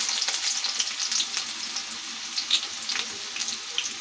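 Mustard seeds, cumin, dried chillies and chopped onion fry in hot oil for a raw banana curry, giving a steady close sizzle with small crackles and pops throughout and no voices.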